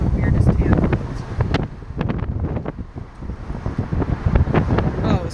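Steady, strong wind buffeting a microphone on a porch outdoors, a continuous low roar with gusty swells and no break.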